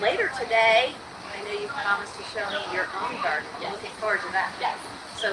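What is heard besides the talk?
None of the usual background noises is heard.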